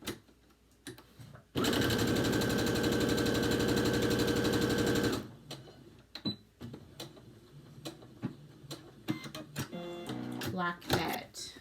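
A sewing machine stitching a quick seam on a fabric mask runs in one steady, fast, loud whir for about four seconds, followed by quieter clicks and handling of the cloth.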